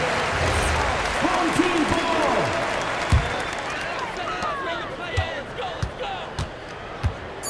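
Home crowd cheering in the NBA 2K26 basketball video game, a broad sustained roar with applause and a few scattered thumps like ball bounces, under a commentator talking.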